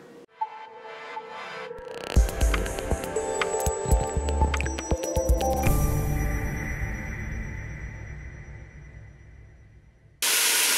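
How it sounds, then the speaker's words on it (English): One pound of ground beef browning in a pan for Italian beef soup, a steady frying hiss and crackle with scattered clinks and scrapes, building after a short quiet start, then a sudden louder noisy burst near the end. "We are browning 1 pound of ground beef"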